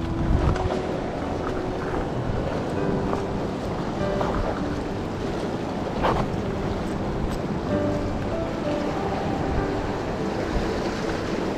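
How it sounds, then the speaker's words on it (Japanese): Wind-driven waves churn at sea during squid fishing off Wakayama, making a loud, constant roar of surf and wind with gusts buffeting the microphone throughout and no talking. "風波すごいな。"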